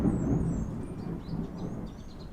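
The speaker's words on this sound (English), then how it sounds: "Sounds like we've got some thunder rolling into Johannesburg outside here." Low rumbling thunder rolls steadily over Johannesburg, a deep continuous roar filling the background with faint high bird chirps above it; no talking.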